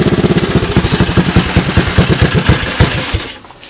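Rebuilt Honda ATC 185 three-wheeler engine running close and loud, a rapid chugging putter with evenly spaced pulses that sputters out and dies at the end.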